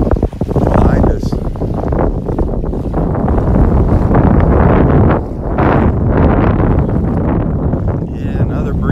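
Strong, steady breeze gusting across a microphone on a beach in North Naples, Florida, a loud continuous roar with brief dips, surf faintly beneath it and a voice speaking under the wind.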